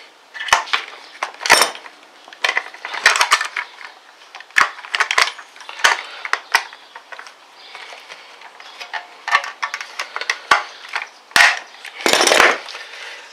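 A pop rivet gun sets a rivet into a Ford Expedition center hub cap, giving a run of sharp metallic clicks and crunching snaps, close and loud, with one heavier pop near the end.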